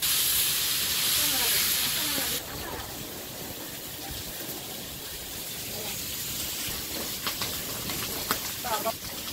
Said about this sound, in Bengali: তো একদিকে মাছ ভাজা হচ্ছে